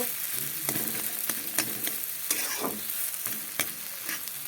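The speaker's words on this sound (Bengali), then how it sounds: "দেখো এইভাবে আলুটাকে তেলে লাড়াচাড়া করে নিয়েছি" Potatoes stirred and fried in oil for a Bengali bharta: close, even sizzling punctuated by repeated sharp scrapes and taps of a spoon against the pan, no talking.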